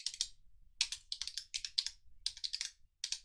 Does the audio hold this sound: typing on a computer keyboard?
yes